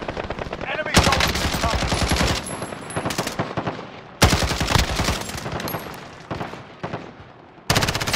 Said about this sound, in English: The Mac 10 is a good gun if people are close enough.